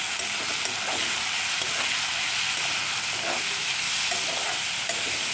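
Chopped capsicum with peanut powder sizzles steadily in a hot pan, a close, even hiss with faint stirring scrapes and no talking.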